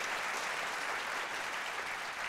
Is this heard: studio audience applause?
yes